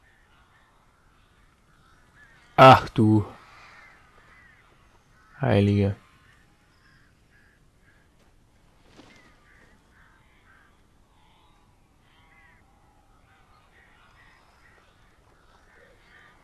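Crows caw in the video game Alan Wake, two loud harsh bursts close together followed by faint distant calls, with brief talk in between.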